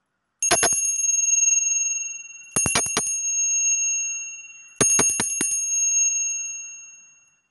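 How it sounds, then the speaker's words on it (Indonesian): A bicycle-style bell rings three times, each a quick burst of bright metallic strikes followed by a long ringing decay, evenly spaced and loud. "kita akan melanjutkan dengan tanda lonceng berbunyi"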